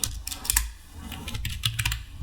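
Text is typed on a computer keyboard in quick, irregular bursts of close, crisp key clicks with short pauses between them, no talk.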